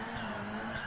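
A car drifts in Gran Turismo Sport with a loud, steady engine drone and tire noise that stays close and constant through the whole short moment.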